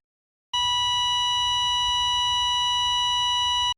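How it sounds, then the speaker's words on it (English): Steady electronic heart monitor tone from the Disney Princess Game Boy Advance game: a loud, continuous pure beep with bright harmonics that starts abruptly after a short silence and holds unbroken to the end. "As the heart monitor sound might suggest"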